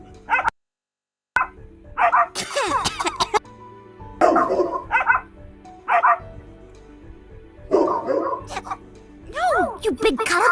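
Animated dog barks and yips in several short bursts, some with an echoing, ghostly quality, mixed with whimpers and interleaved with people talking.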